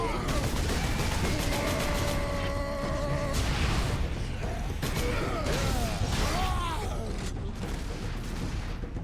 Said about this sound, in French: Il y en a un autre qui nous tire dans le dos là.